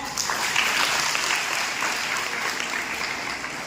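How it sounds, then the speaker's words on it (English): Students at a school legal-awareness campaign against drugs clap together in a fairly soft, steady patter that carries on evenly for a few seconds from a middle distance. "Please clap."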